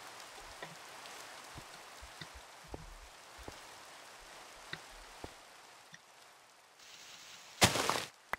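Rain falls in the Minecraft video game as a soft, steady patter with scattered drop taps, faint and even, before a sudden brief loud burst near the end.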